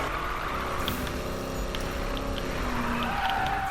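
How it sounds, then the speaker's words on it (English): A car drifts in a racing video game, its tires squealing in a steady, sustained screech over a continuous loud engine roar. "It is so easy to initiate a drift in this car, but it is so difficult to control it."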